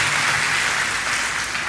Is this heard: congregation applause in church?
yes